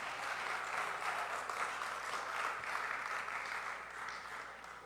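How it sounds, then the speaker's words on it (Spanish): A church congregation applauding during a service, sustained clapping from many people that stays strong for several seconds and softens near the end. "Den un aplauso a Jesús"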